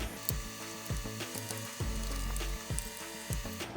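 A hand ratchet with a T27 Torx bit backs out mounting bolts on a 2024 Harley-Davidson Street Glide or Road Glide license plate area, giving repeated rapid clicking bursts, close and fairly quiet, with no talking.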